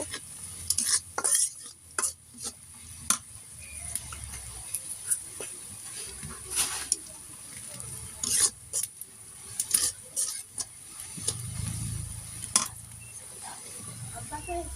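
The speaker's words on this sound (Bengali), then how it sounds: "আর একটু ভেজে নেব।" Chilies and onions frying with oil and spices in a pan, a low sizzle broken by frequent scraping and clinking stirs of a spoon against the pan, irregular and close.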